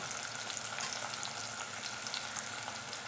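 Sardine curry with crushed spices and green chillies frying and being stirred in a pan, giving a soft, steady sizzle with faint scraping, close and quiet with no talking.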